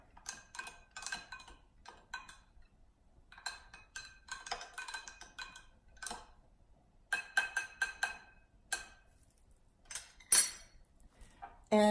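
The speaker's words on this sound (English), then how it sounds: "And then you take a teaspoon and stir it up." A teaspoon stirs eggnog in a glass, clinking in quick bright bursts of repeated taps separated by short pauses, close and alone with no talk.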